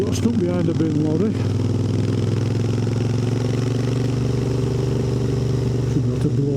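Royal Enfield Interceptor 650 motorcycle idling and rolling slowly behind a bin lorry in traffic, a steady low engine drone with a brief rev near the start, with someone talking over it.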